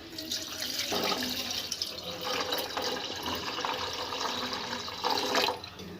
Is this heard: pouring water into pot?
yes